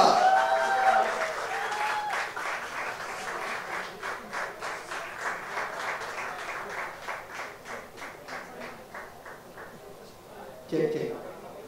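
Studio audience applause welcoming a music star at the launch of a televised singing show, settling into rhythmic clapping in unison that gradually fades, with a brief voice near the end.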